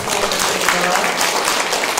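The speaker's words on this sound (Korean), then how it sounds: "박수로 축복하겠습니다" A church congregation claps together as a blessing at the close of a Sunday worship prayer, a steady dense wash of hands filling the room for two seconds with a faint voice underneath.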